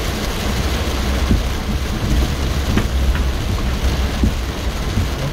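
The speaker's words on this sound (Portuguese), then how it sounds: "Essa chuva tá difícil." Heavy rain pounds steadily on a vehicle driving along the BR-163 highway in Brazil, a loud dense hiss with faint rumbles of thunder and no talking.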